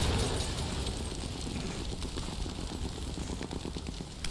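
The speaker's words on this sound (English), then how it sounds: "All those secondary explosions," A chain of secondary explosions in a sniper video game, heard as a dense, continuous roar of booms and crackling debris with repeated low thuds spread across the whole stretch, loud and without speech.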